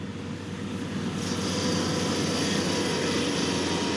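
A train led by five locomotives passes close by, a loud, steady, broadband rumbling roar that swells slightly and holds for the whole stretch with no pauses.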